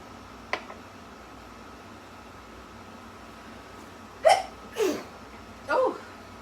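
A person sneezes while seasoning chicken thighs for roasting with vegetables: a small sharp burst, then a cluster of three louder, close sneeze-like bursts in quick succession near the end, over quiet room noise.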